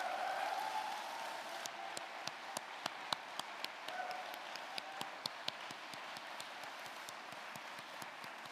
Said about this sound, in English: I would request a round of applause now for all of these people